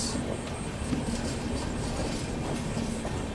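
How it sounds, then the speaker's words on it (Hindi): Guntur Secunderabad Intercity Express rolling past, a near, steady rumble of rail cars with clickety-clack of wheels on track and faint squeals above. "सामने जा रही है गुंटूर सिकंदराबाद इंटरसिटी एक्सप्रेस।"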